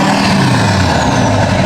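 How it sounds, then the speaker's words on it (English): A totaled LBZ Duramax dually diesel pickup revs hard, a loud, steady, broadband engine roar held close for under two seconds with no one talking. "Bailey, can you hit the accelerator really quick?"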